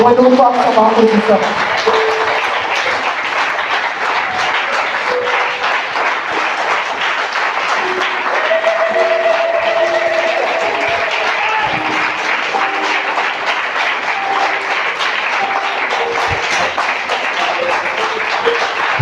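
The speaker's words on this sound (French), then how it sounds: "Acclame bien le Seigneur." Congregation at a church service applauding and acclaiming the Lord, a steady dense wash of clapping and raised voices that holds loud and continuous throughout, with cheering and some tonal vocal lines rising through the crowd noise.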